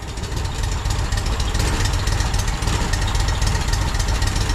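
A Walker mower engine, just converted from fuel injection to a carburetor, idles steadily and loudly at close range with an even, slightly knocking rumble.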